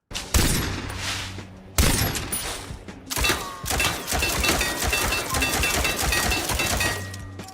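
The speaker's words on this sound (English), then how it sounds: "Not only you shoot the tree, but he's taking off smaller chunks of the tree" In the Battlefield 6 video game, bursts of loud rapid gunfire shred a tree into chunks. The firing comes in a few short volleys and then one sustained stream of shots, with cracking impacts under it.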